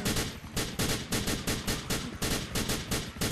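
Rapid pistol gunfire in GTA 4 multiplayer, a dense, loud, continuous string of sharp shots at a quick uneven rhythm with no pauses and no talking.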